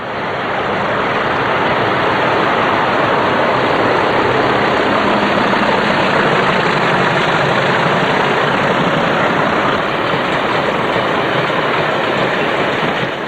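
A heavy Class 40 diesel locomotive on a cement train drones on and on, a dense, unbroken engine rumble with rail noise, loud and close for the whole stretch.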